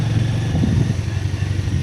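A motorcycle rides along the road to Darjeeling with a steady, loud low engine drone and rumbling road noise heard close up, continuous throughout with no voices.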